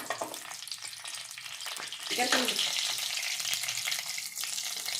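Whole spices, mace and bay leaves, sizzling in hot oil for a mushroom biryani, a bright, steady crackling hiss with brief stirring scrapes, close and fairly loud, no talk.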